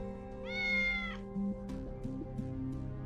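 A single drawn-out cat meow in the video game Tales of the Neon Sea, clear and fairly close, over a soft background of steady tones, followed by light clicks.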